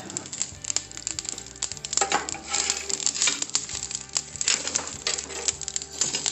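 Repeated knocks, clunks and scraping clatter of wood being shuffled around inside a wood stove, irregular and close, with sharp hard hits and rattling throughout.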